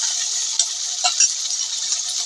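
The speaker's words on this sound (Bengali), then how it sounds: "এখন আমি ভালো করে মশলাটাকে ভেজে নেব।" A paste of ginger, garlic, cumin and coriander fries in a pan with a bright, steady hiss, broken by a couple of brief stirring scrapes and spatters up close.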